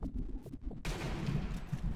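A sharp gunshot cracks out partway through in the video game Sniper Elite V2, followed by a dense, sustained burst of noisy rumble and distant shooting over background game sounds.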